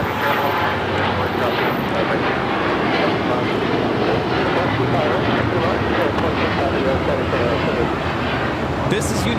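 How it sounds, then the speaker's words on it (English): United Airlines Boeing 787-9 Dreamliner taking off from LAX for Tokyo Narita, a loud, close, continuous engine roar with voices talking over it. "This is United Airlines Flight 32 taking off to Tokyo Narita on the 787-9 Dreamliner."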